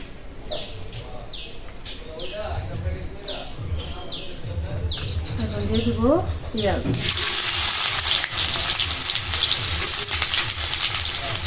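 Mustard oil hits a hot wok for cooking large river bele fish, breaking into a loud, steady sizzle after a quieter stretch of faint clinks and birdsong.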